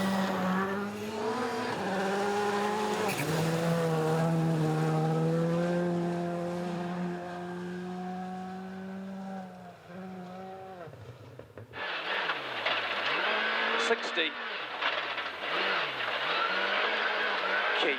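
On board a rally car during a New Zealand Rally Championship stage, the engine drones and rises through long steady pulls, then shifts abruptly into a harsher, revving, skidding roar with rapid pitch dips.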